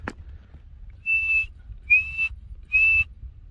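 Three piercing alarm whistles from alpine marmots ring out in steady succession across a mountain slope at Passo Pordoi, each call brief and shrill above faint low wind noise, with no voices.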